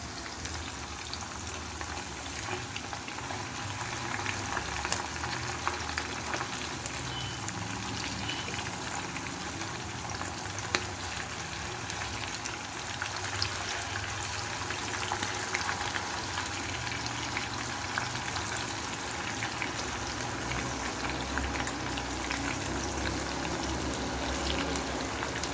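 Pieces of fish sizzle and crackle steadily in hot oil in a pan, the frying for a fish biriyani carrying on evenly and close up with no talk over it.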